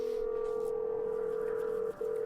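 A phone number is dialed in the video game Nancy Drew: Sea of Darkness, heard as a steady, clear electronic telephone tone with one brief break near the end.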